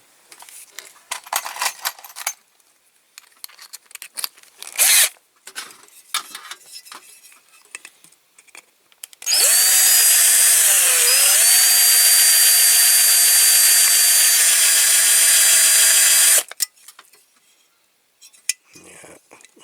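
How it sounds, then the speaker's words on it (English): Power drill boring out a big rivet holding a window unit on a milk float under restoration. Scattered clanks and tool handling lead into about seven seconds of loud, steady high-pitched whine with a brief dip as the bit bites, then more metallic clatter. "Do I drill that? I might drill that"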